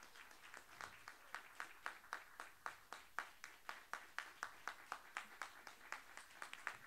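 An auditorium audience welcoming a cultural honoree breaks into slow, rhythmic unison clapping, faint and fairly distant, with regular beats repeating for about seven seconds.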